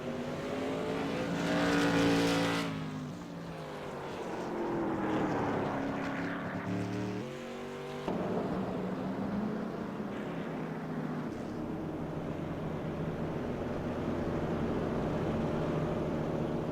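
CRA Modified race cars lap Irwindale Speedway, their engines roaring loudly as a pack sweeps past with rising and falling pitch, then settling into a steady, more distant drone.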